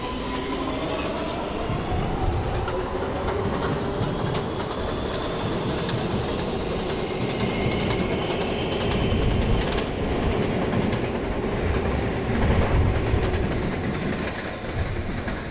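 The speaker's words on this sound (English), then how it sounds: "This is a Manhattan-bound one train." New York City subway 1 train, Manhattan-bound, pulling out of a station: continuous loud rumble and rail roar with rising motor whine and rhythmic clatter, heard from inside the car.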